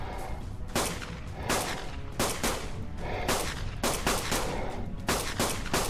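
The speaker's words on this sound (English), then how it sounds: "let's snipe this guy with the pistol" Rapid bursts of pistol fire in ARK: Survival Evolved, loud sharp cracks in uneven clusters and single shots, close by and alone without talk.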